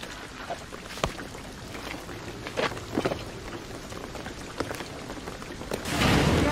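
Steady rain falls in Shadow of the Tomb Raider, a dense hiss with scattered drop taps and soft thuds, swelling into a heavier wash near the end.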